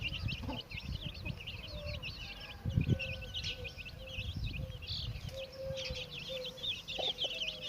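A yellow hen clucks low and repeatedly while leading her chicks through grass on a farm, with high chick peeps and other bird chirps around her at moderate distance.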